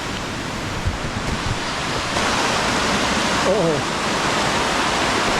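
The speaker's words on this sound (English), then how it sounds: "I'm returning for the waterfall." A forest waterfall on a lush trail roars as a steady broadband wash, close and continuous, with a brief exclamation from a runner partway through.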